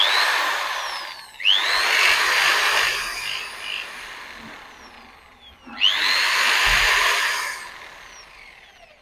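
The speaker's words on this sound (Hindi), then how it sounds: "हमने ड्रिल मशीन के अंदर थोड़ा सा रेगमार लगाया" A power drill fitted with sandpaper spins up twice on a Royal Enfield Interceptor 650 part to clear carbon, each run a rising whine settling into a steady close, loud grinding hum with a lull between.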